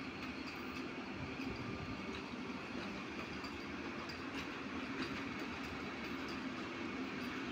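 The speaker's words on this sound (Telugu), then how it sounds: "వందే భారత్ ట్రైన్." Vande Bharat express on the Nagpur–Secunderabad route passing by: a steady, fairly faint rumble of the moving train with light rhythmic wheel clatter, heard alone without talk.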